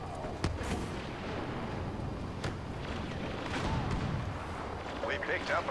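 Bursts of blaster fire in Star Wars Battlefront, Bespin DLC, crackling steadily through a busy battle mix with occasional sharper shots and people talking over it.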